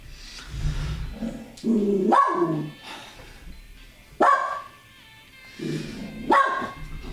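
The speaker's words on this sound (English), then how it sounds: "What are you barking for?" A dog named Harley barks in several loud, sharp bursts spaced a couple of seconds apart, close by, with low growling between the barks and no talk in the room.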